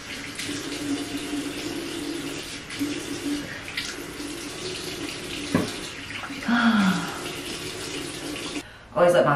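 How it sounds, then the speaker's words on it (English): Water runs steadily from a bathroom sink tap while a face is rinsed, a continuous close splashing rush that shifts as hands move through the stream and ends with a brief louder splash. "Little rinse."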